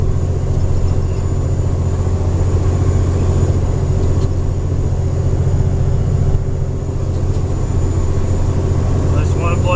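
Heavy truck engine labouring uphill in fourth gear through an Eaton Fuller 10-speed, a loud, steady, deep drone that holds for the whole stretch without easing off.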